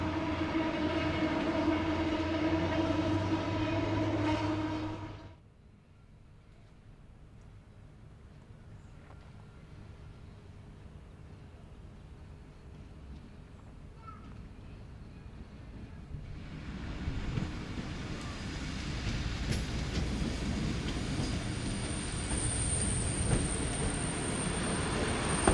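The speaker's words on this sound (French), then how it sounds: "Nous retrouvons le convoi un peu plus loin alors qu'il traverse un passage à niveau." A panoramic railcar crosses a level crossing, its loud engine rumble cutting off abruptly, then quiet before a steady rolling rumble of the train builds again and continues to the end.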